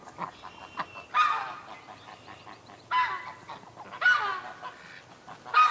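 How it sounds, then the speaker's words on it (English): Canada geese with goslings honk in several loud, separate bursts outdoors near a swamp at dusk, the calls close and spaced a second or so apart over quiet background. "There's the Canada geese, and it's gosling"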